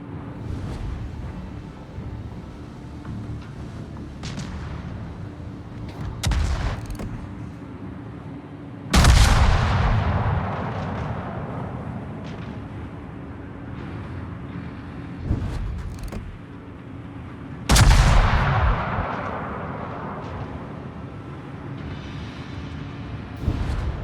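Naval artillery fired from warships in the World of Warships video game: two heavy, booming salvos about nine seconds apart, each with a deep thump and a long rolling decay, between lighter distant reports over a steady low rumble.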